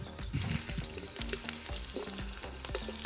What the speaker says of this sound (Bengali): পকোড়াগুলো দেওয়ার সাথে সাথেই নাড়াচাড়া করবেন না এক দু মিনিট একটু এক পাশটা ভাজা হয়ে যাবে